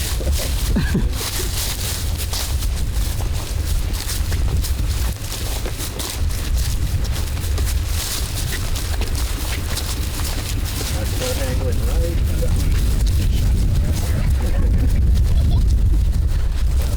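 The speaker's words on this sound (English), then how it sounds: "There's quite a bit of wind." Strong wind buffets the microphone at a deer hunting camp in Illinois, a continuous loud roar throughout, with people talking now and then.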